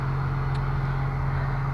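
Distant farm machinery harvesting a crop near a rural off-grid property: a steady, low mechanical drone with no breaks, heard from afar and alone.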